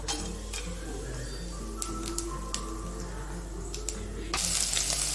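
Whole spices (cinnamon, cloves, cardamom, bay leaf and fennel) fry in hot groundnut oil for a Kumbakonam kadappa, making a steady close hiss with occasional ticks and a louder surge near the end.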